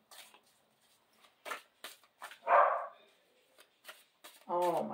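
A dog gives a single short bark indoors, at moderate distance, with talk and shuffling sounds before and after it.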